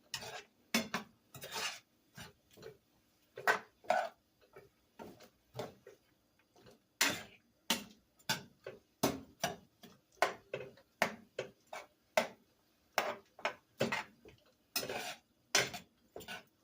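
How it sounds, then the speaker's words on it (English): A utensil scrapes and knocks against a pan in irregular rhythmic strokes as food is stirred, each stroke crisp and close with short silent gaps between. "Stir everything good."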